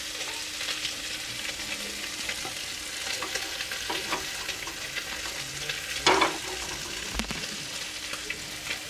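Oil sizzles in a hot kadai as a fish curry is started, a steady close hiss broken by a few utensil knocks and clatters near the end; no one speaks.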